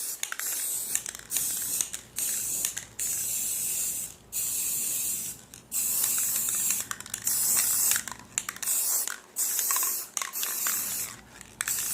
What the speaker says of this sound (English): These cans aren't really necessarily meant to be sprayed upside down